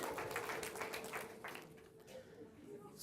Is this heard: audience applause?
yes